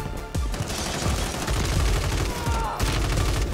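Rapid assault rifle fire from a Ram 7 in the Warzone video game, heard as dense, loud bursts of shots rattling almost nonstop, with a short pause near the end and no talking.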